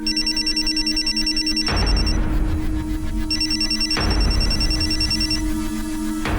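A mobile phone ringtone in a crime drama scene: a loud, bright electronic melody that plays through twice, with steady sustained tones and no talking.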